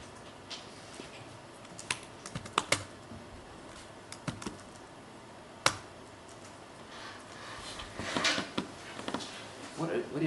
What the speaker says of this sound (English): I'll just wait until I stop hearing typing